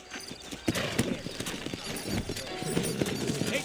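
Horse hooves clip-clopping in the western video game Red Dead Redemption, a brisk close rhythmic trot of hoof strikes with a brief whinny and faint game ambience.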